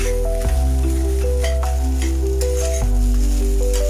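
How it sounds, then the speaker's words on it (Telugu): Rice with cumin and coriander fries on high heat in a pan, sizzling steadily while a spoon stirs it, with a few scraping strokes and no talk. "రైస్ అయితే బాగా కలుపుకోవాలండి బాగా వేయించుకోవాలి హైలో పెట్టి"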